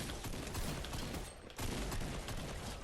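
Gunfire rattles in the video game Fortnite as a dense, continuous volley of rapid shots, fairly loud and unbroken apart from a brief dip midway.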